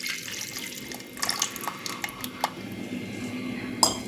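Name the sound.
tamarind water poured into pressure cooker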